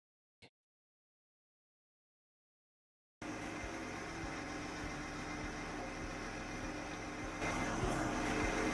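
A car engine treated with Tirrent Booster additive idles smoothly and steadily, a continuous broadband hum that starts after a few seconds of silence and grows slightly louder near the end.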